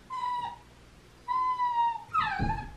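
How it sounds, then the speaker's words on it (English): A puppy whines in three high, thin cries, the last one sliding down into a soft whimper, close by with no talking. "I have a puppy currently clawing my leg and seat."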